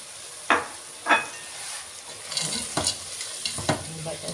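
Frozen peas tipped into a cooking pot, a few quick clattering drops followed by a hiss of sizzling and light stirring scrapes.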